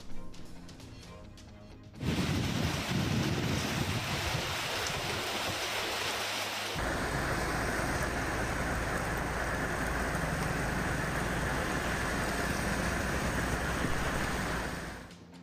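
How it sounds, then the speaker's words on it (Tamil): Heavy rain pours steadily in Tamil Nadu, a dense continuous hiss that starts abruptly and swells louder partway through, with no clear thunder standing out. "தமிழ்நாட்டில் பல்வேறு ஊர்களில் பரவலாக மழை."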